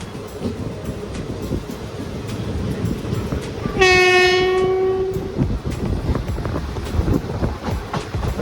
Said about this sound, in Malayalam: കണ്ണപുരം സ്റ്റേഷനും കഴിഞ്ഞു, അവിടെ നിന്നും ഡിപ്പാർട്ടായി വണ്ടി.